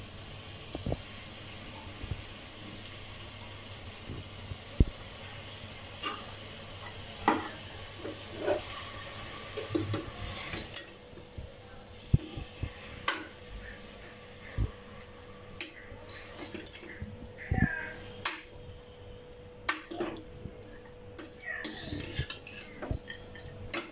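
Goat tripe sautés in a pan with dal, a faint sizzle running under scattered clinks and scrapes of a spatula against metal, growing sparser and more clattery toward the end.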